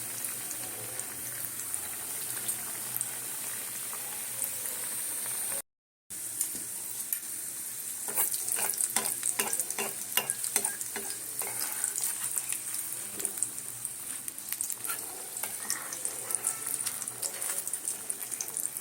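Mughlai paratha pieces frying in hot oil in a small pan, giving a steady loud sizzle with crackling bursts and faint stirring that runs throughout, broken by one brief gap.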